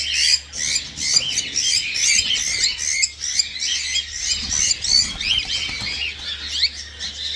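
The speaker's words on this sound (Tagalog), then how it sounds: "Mga black-headed lang ito na emerald, mga kaibon." Several black-headed emerald birds give busy, overlapping high chirps and squawks in quick bursts, close by and continuous over a faint low hum, with no talking.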